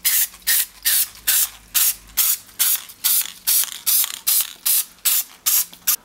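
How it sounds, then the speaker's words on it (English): Brass spray paint hisses onto a mask over a coat of primer in a dozen or so short, evenly spaced bursts, each a sharp airy spurt separated by brief silence. "Over the top of the primer, I'm going to spray the top mask with a layer of brass paint."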